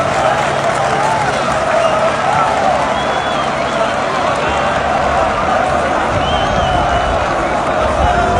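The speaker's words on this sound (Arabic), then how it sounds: "تصفيقات الجمهور الجزائري على المنتخب المغربي" Algerian supporters in a Constantine stadium applaud the visiting Berkane football team, a sustained wash of clapping and crowd noise with scattered shouts, loud and continuous from start to finish.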